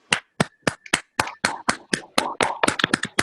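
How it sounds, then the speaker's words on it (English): Webinar attendees clapping over an unmuted online call, separate sharp claps at first that thicken into a quicker, overlapping round of applause, fairly close and clear. "can you all give a round of applause?"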